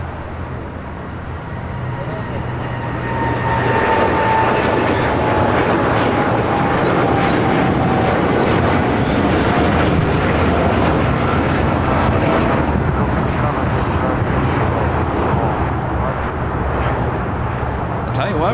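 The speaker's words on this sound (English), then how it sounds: "United Dreamliner heading to Tokyo Haneda, now rolling down, taking off on 25 right" A United Boeing 787 Dreamliner bound for Tokyo Haneda roars down runway 25 right at LAX on takeoff, a loud, sustained jet engine rumble with a rising whine that fills the whole stretch without letup.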